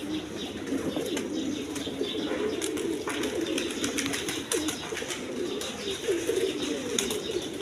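A flock of high-flying Giribaz pigeons coos continuously in a low, murmuring drone, with occasional faint chirps and wing flutters mixed in.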